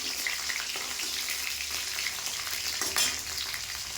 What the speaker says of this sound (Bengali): এর মধ্যে এবার এই কাঁচা লঙ্কাগুলোকে দিয়ে দেবো, একটু ভেজে নেবো